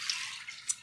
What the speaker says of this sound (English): I'm going to rinse it off just a little bit more because it's kind of salty.